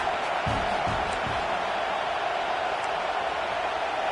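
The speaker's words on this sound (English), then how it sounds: "This crowd bringing the energy and noise early." Stadium crowd in a college football video game gives a broad, steady roar of noise, loud and constant, with a few brief low thumps early on.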